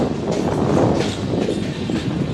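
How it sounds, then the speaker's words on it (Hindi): The 28 Down Shalimar Express train rumbles loudly into Rohri Junction railway station, with a dense, continuous roar of wheels and carriages and faint clatter throughout. "28 डाउन शालीमार एक्सप्रेस अप्रोच कर रही है रोडी जंक्शन रेलवे स्टेशन पर"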